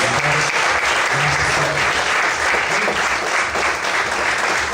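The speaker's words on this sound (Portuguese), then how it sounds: "Você pode desocupar sua mão e aplaudir a Senhor" A church congregation claps steadily and loudly throughout, a dense, continuous wash of applause with no pauses.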